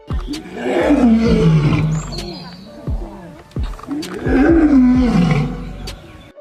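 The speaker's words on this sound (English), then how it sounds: "A lion's magnificent roar may last for only 90 seconds" Two long, deep lion roars, each swelling to a loud rumbling peak and then fading into grunts, close and powerful.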